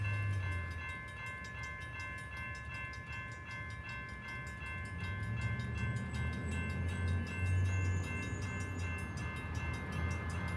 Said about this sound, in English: Here she comes now with NPCU leading.